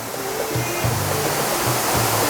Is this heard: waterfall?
yes